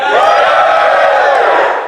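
A large crowd at a live show shouts and cheers loudly in one sustained roar that fades slightly at the end.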